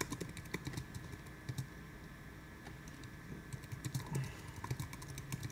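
Someone typing a comment on a computer keyboard: rapid, irregular clicking keystrokes, close and fairly soft, running continuously with brief pauses and no talk.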